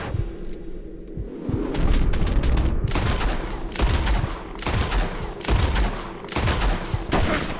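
Gunfire from the video game Red Dead Redemption 2, rapid repeated shots and booming blasts in a steady barrage, loud and close, with no talking over it.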